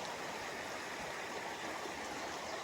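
A fast-flowing river in Cumbria rushes in a constant, loud, broadband roar with no pauses, heard close and alone.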